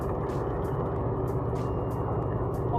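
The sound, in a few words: car shaking from steering vibration at highway speed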